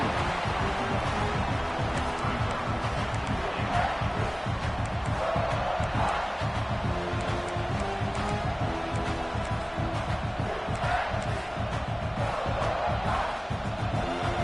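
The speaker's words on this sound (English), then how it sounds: "this big crowd doing everything possible to inspire this defense down here near the goal line" A big college football stadium crowd roars for the home defense near the goal line, a dense, loud, sustained wall of cheering and shouting lasting throughout.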